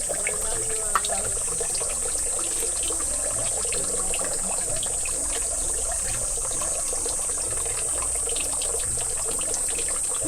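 Water splashes and trickles at a Japanese temple purification basin, a soft, continuous pouring under a faint steady outdoor hum with light background voices.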